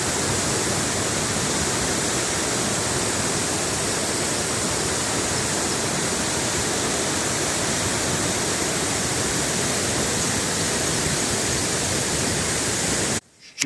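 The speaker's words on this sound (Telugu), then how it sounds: "కంటిన్యూస్గా వర్షాలు పడడం వల్ల ఇప్పుడు వాటర్ ఫ్లో ఫుల్గా వస్తుంది" A waterfall in Rajanna Sircilla roars in full flow after continuous heavy rains, a loud, unbroken wash of rushing water that holds steady throughout before cutting off abruptly at the very end.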